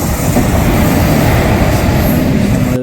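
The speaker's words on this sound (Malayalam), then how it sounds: "അതിന് ശേഷം ദേ നമ്മുടെ ട്രെയിൻ വരുന്നുണ്ട്." A passenger train pulls into an Indian railway station, its loud, continuous rumble and rattling wheels filling the whole stretch close by, with no voices.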